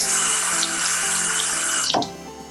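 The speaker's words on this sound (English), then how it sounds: "So now we're going to use a towel," Water runs steadily from a tap as a towel is wetted for removing a skincare face mask, a close, continuous splashing hiss that cuts off abruptly near the end.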